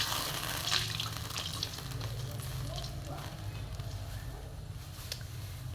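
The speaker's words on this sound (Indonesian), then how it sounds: "Nah, ini sudah kecoklatan bumbunya. Kita masukkan air secukupnya." Water poured into browned spices frying in a pan for a village-style water spinach (kangkung) dish, giving a steady broadband sizzle and bubbling hiss with small crackles throughout, close and continuous, with no talking.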